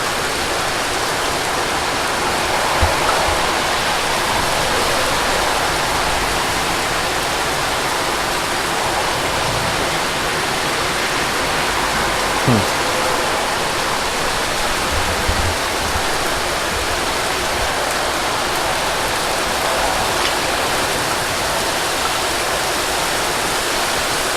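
Heavy rain during a passing thunderstorm on a fishing trip pours down as a dense, loud, unbroken hiss of drops on surfaces, with a few faint low thumps and no voices.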